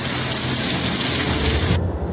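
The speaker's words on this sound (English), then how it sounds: "As the rain intensified" Heavy storm rain pours down in La Paz, a dense, loud, unbroken hiss of water falling on surfaces that continues steadily before cutting off abruptly near the end.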